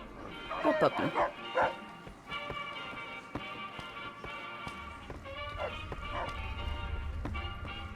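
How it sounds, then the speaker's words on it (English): Dog barking in the video game Fallout: New Vegas, a few quick yips and barks early on, then game ambience with faint tapping and a low rumble. "Oh, puppy."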